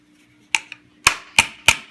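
A small pink hammer taps sharply on a metal part of a four-way shop extension cord, sounding a few crisp, distinct clicks: one light tap, a faint echo, then three evenly spaced, louder knocks, close up in a quiet room.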